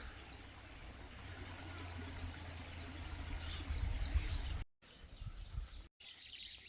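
Faint birdsong chirps sporadically through steady outdoor ambience with a low hum, fairly distant, near a small stream at Agashiv Caves, Maharashtra.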